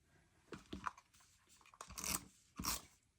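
Scissors cut a paper mat in half, giving a few quiet, close snips and crunching slices in short bursts separated by pauses, with no voices.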